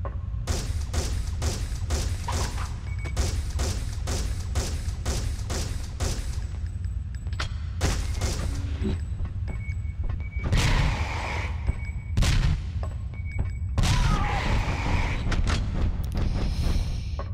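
Rapid bursts of gunfire in the PS1 game Alien Resurrection ring out in quick succession, sharp repeated shots with a few heavier blasts and mechanical clatter, loud and close throughout.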